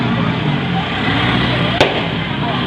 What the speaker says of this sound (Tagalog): Ano ba yun? Paputok? Pasko ba ngayon?